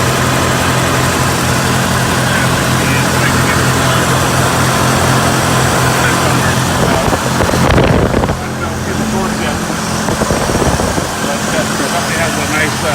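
A 1972 Ford Bronco engine runs loud and steady, a constant rumble mixed with gusty wind noise across the microphone.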